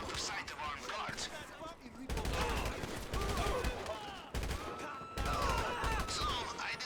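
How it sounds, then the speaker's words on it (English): Gunfire in GTA Online during a Cayo Perico heist mission: repeated bursts of shots and rapid volleys crackle loudly across the scene, with speech-like chatter mixed in. "I deduce from the sound of gunfire that you have not gone for the stealthy approach"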